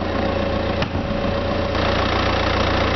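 A 2008 Audi A4 with a 1.9 litre turbo direct-injected TDI diesel idles steadily, a close, even low rumble with a faint diesel clatter and no talk.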